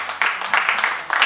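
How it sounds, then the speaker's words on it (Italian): Brief rounds of audience applause on a live Italian comedy night show, a few short clapping bursts close together, moderately loud, ending quickly. "Applauso."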